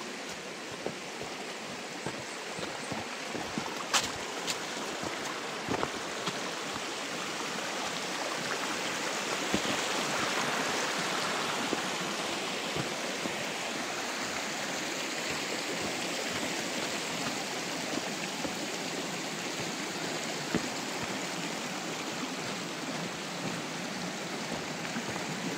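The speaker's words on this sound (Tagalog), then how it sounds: "Yan, umuulan na." Steady rain falls outdoors as a dense, even hiss that lasts throughout, with a few sharper drips and taps standing out.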